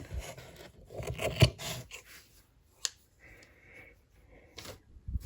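Scissors snip through the yarn fringe of a crochet shell stitch scarf in a few short, close cuts and rustles, with a sharp snip near the middle and quieter pauses between.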